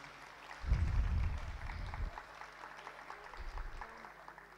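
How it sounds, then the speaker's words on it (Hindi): An audience at an evening school event applauds, with a dense burst of clapping that swells, then settles into steady, moderately loud applause throughout the hall. "जोरदार तालियां हमारे एमके सेठ सर के लिए"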